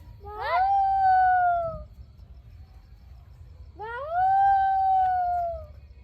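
Two long, drawn-out howls, each rising and then slowly falling, separated by a short pause over faint background hum.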